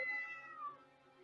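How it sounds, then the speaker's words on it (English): A cat trapped inside a wall meows in a 1959 horror film, one drawn-out, wavering cry that slides downward and fades, heard alone and fairly clear. "The cat's stuck in the wall."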